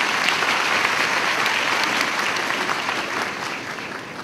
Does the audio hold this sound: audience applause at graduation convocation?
yes